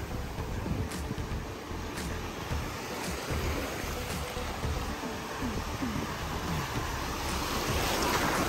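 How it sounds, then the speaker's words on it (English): Ocean surf rolls in at Galveston beach on the Texas coast, a steady, close wash of breaking waves with wind buffeting the microphone throughout. "And these waves is really coming in."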